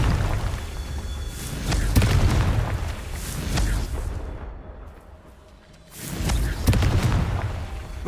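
Confringo blasting-spell explosions in Hogwarts Legacy: repeated deep booms and crackling bursts roll on over a continuous rumble, dropping briefly before another loud burst.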